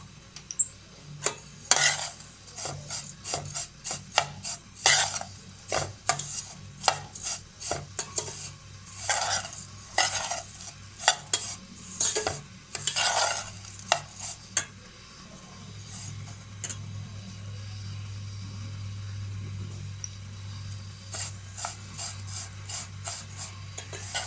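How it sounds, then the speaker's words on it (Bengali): Dry vermicelli frying in a spoonful of butter in a pan, stirred by a spoon that gives repeated close scraping, rasping strokes, then the stirring stops and only a steady low sizzle remains, with a few more scrapes at the end. "এখন সেমাইটার সাথে বাটারটা ভালোভাবে মিশিয়ে ভেজে নেব"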